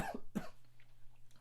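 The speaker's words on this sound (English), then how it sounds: "apologize for that coughing there." A couple of sharp, quiet coughs come close together at the start, followed by near silence with a faint steady hum underneath.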